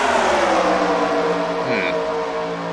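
Race car engine roaring past at Daytona International Speedway, a loud, steady high-pitched drone with a brief pitch drop as it goes by, heard alone.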